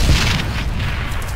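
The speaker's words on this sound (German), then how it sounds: "Es piept schneller, es explodiert gleich." A heavy explosion in DayZ booms with a deep low thud and crackling burst, loud and close, then rumbles on briefly.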